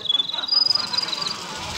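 Voice imitating a cricket with rapid, high-pitched clicking chirps in quick pulsing bursts, close and moderately loud, sounding like insect noises made for a Star Wars animated series.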